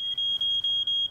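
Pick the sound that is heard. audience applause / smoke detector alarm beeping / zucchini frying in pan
smoke detector alarm beeping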